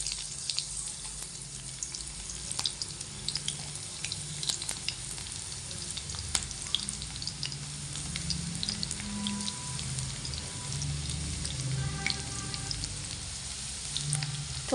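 Cumin and garlic sizzling in hot oil in a pan, a steady crackling fry with scattered sharp pops and occasional light clinks, moderately close.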